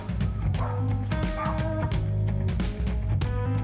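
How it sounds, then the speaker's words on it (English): Three small rescued puppies at an animal rescue shelter yip and bark in quick, high, overlapping bursts close by, with whimpers mixed in throughout. "These three little puppies were rescued from Philippi area."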